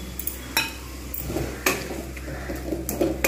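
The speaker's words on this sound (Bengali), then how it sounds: "এবারে আমি এর মধ্যে দিয়ে দেবো চিংড়িগুলো" Prawns tumble into a pan of taro stolon curry with a few sharp clattering knocks, then soft scraping and stirring close by, with no voices.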